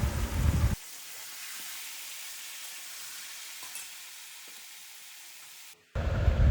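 Chicken pieces frying in oil for a Bengali chicken curry, with a loud, close sizzle at the start and end and a soft hiss in between.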